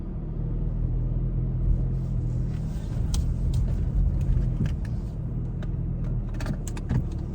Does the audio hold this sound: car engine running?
yes